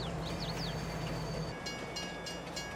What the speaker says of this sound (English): Okay, the train is here.